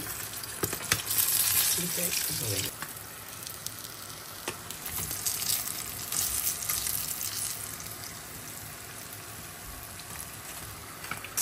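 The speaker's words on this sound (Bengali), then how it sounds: "মাছগুলা ভাজা হয়ে গিয়েছে" Small puti fish frying in a pan, a steady close sizzle and crackle with occasional stirring clatter, no voices.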